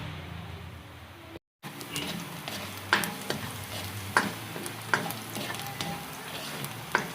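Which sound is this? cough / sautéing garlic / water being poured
sautéing garlic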